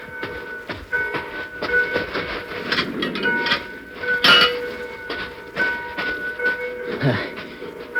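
A freight train rolls along loudly with rhythmic clacking and metallic screeching tones, plus scattered clunks from the cars.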